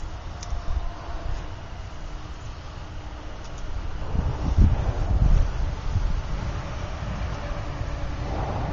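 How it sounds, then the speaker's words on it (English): A steady low roar of distant highway traffic with wind buffeting the microphone, swelling briefly as a heavier vehicle passes. "Sorry for the noise, I got the"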